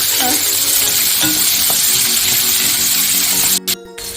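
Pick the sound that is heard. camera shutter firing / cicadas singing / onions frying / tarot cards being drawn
onions frying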